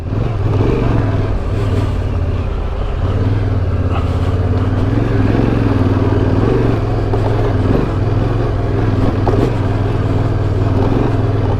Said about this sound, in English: There's a four-wheel drive coming, so I will come around this way